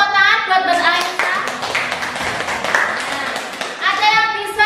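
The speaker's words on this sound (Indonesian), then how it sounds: "Ya, tepuk tangan buat Mbak Ailsa." Classroom applause for a student, a burst of close, loud hand-clapping mixed with children's voices, easing off midway before more voices and clapping return near the end.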